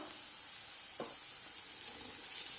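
Chopped garlic with salt and pepper powder fries in a pan, giving a steady close hiss of sizzling oil with a couple of soft stirring scrapes and no talking.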